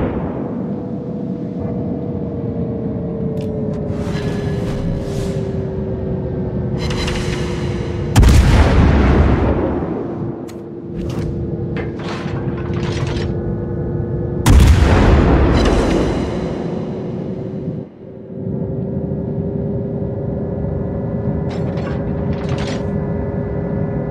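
Naval guns boom in the video game World of Warships: two big, heavy blasts about six seconds apart over a constant engine drone, with mechanical clicks and ratcheting turret sounds, loud and near, no talking.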